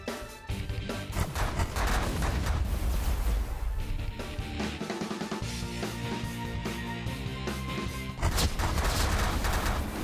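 Spreadshot weapon in the space game The Last Federation fires at turrets, a dense, continuous volley of rapid blasts and crashing impacts, fairly faint, with no talking.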